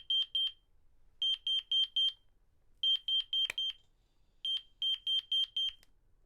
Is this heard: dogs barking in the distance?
no